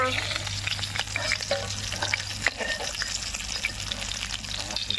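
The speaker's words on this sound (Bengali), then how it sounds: "ভাজা হয়ে গেছে মাছগুলো আমি তুলে নেবো" Rohu fish belly pieces fry in a hot pan with a dense, steady sizzle up close, joined by occasional stirring scrapes and clinks over a low hum.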